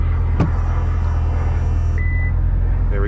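The folding convertible top of a C7 Corvette Z06 runs with a steady mechanical whir over a low engine idle, then a short electronic chime sounds as the motion finishes.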